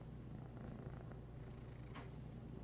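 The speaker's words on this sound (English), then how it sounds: "can you hear him purring?" A rescued cat purrs close up in a steady, soft, continuous rumble with no other sounds.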